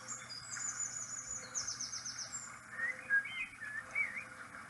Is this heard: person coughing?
no